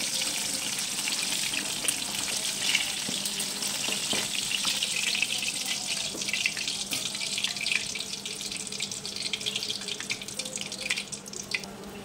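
Steady, dense sizzling and crackling of chicken samosas deep frying in hot oil, continuous and close, with occasional faint clinks.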